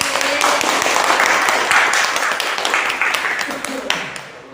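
A classroom of students applauds at a teacher's prompt, a brief burst of loud, dense clapping with some chatter.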